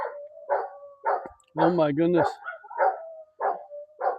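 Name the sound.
neighborhood dogs barking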